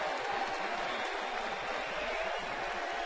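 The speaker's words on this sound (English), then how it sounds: "He'll receive a nice round of applause." Crowd applause at a Major League Baseball game between St. Louis and San Diego in 2010: a steady, faint, distant wash of clapping with no breaks.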